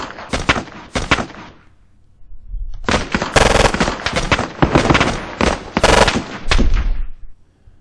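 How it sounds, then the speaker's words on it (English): Machine gun fire in a military video game: two short, loud bursts, a brief lull, then long rapid volleys of automatic fire that crackle close and dense. "Still firing back and forth."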